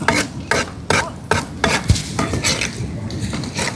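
A spatula scrapes and knocks repeatedly in a pan where curry leaves go into hot coconut oil, roughly every half second, close and fairly loud, with faint frying underneath.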